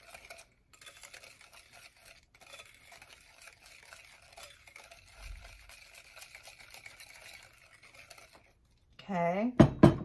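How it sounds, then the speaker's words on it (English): A whisk stirs a cup of sugar in a bowl, making a fast, steady run of light scraping clicks at close range. A voice cuts in briefly at the end. "We're gonna whisk this."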